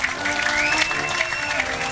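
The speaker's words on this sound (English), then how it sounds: "let's give these people a nice round of applause" Dense audience clapping, moderately loud and continuous, with a faint murmur of crowd noise beneath it.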